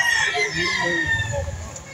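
Chickens and roosters at a poultry market in Lipa City, Batangas, a rooster's crow and clucking mixed with crowd murmur, fairly close and moderately loud through the whole brief stretch.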